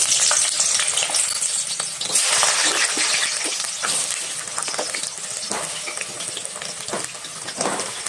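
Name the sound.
diced papaya and potato frying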